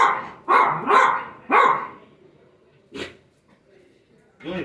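A pet dog gives a few loud, close barks in quick succession, then one more after a pause and another at the end, with quieter household noise in between.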